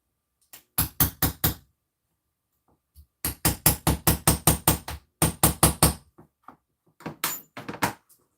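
A rivet hammered into thick material for a crafts project, sharp close knocks in quick bursts of four to nine strikes separated by short pauses.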